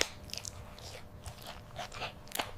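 Mealworms gnaw into watermelon flesh, a faint, scattered crackle of tiny bites and crunches rising and falling close up, with no voices.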